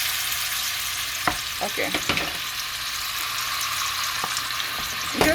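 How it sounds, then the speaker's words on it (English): Beef frying in hot oil in a pot for a stew, a steady close sizzle running throughout with a few sharp clicks and knocks, while a voice briefly speaks over it. "It's hot now, so it's time for us to put this meat into the pot."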